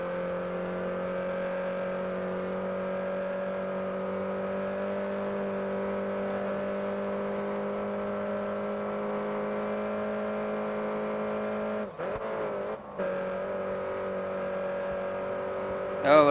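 A Mini race car engine in the racing game Grid Autosport holds a loud, steady droning whine at high revs, briefly dipping around a gear change before resuming.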